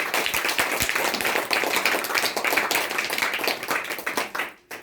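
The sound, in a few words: audience clapping for Modicare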